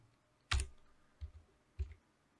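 Three separate keystrokes on a computer keyboard, one sharp click followed by two softer taps. They are close and quiet, with no talk over them.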